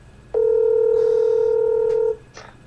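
A telephone tone sounds for a phone call, one steady, loud, close electronic beep holding for nearly two seconds before cutting off, with faint background noise and a brief click afterward.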